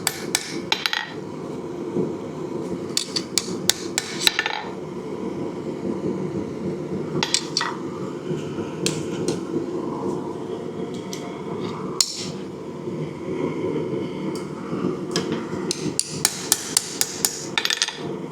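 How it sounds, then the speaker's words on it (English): Hammer taps on a red-hot steel hunting knife's hidden tang during hand forging, light and controlled strikes rather than heavy blows. Sharp metallic clinks come in irregular clusters and bursts over a steady low forge roar, close and fairly loud, with no talking. "It's okay to tap on this when it's red hot, but you don't want to really smack this steel."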